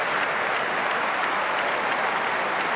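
Wimbledon crowd applauding as the players begin a fifth and deciding set, a dense, continuous roar of clapping filling the stadium without any talk on top.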